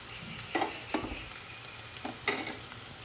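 Onion and ginger masala fries in a pan with a low, steady sizzle. Several distinct scraping strokes of a stirring spoon cut through at irregular intervals.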